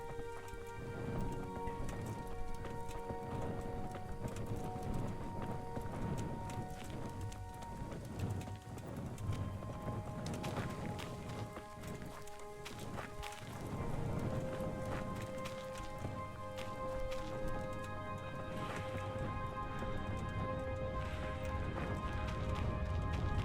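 Horse hooves in the medieval game Kingdom Come: Deliverance clop along in a steady rhythm beneath a continuous layer of rain, thunder-like rumble and background music, with no speech.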